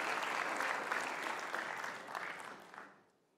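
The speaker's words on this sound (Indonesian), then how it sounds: "Kita kasih tepuk tangan." A studio audience on a talk show claps in a broad, steady wave of applause that gradually fades out near the end.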